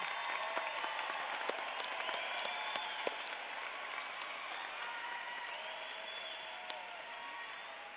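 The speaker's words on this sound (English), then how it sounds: "How about a round of applause for this amazing group of graduates?" Applause for graduates at a cyber charter school commencement ceremony, a steady wash of clapping from a large crowd with occasional sharper individual claps, continuous and moderately distant for about eight seconds, with a faint tonal hum underneath.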